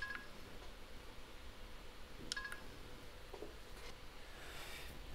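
An Xbox One X Cyberpunk 2077 edition console gives off short electronic beeps when a small button on it is pressed, faint tones heard close to the microphone over a steady background hiss.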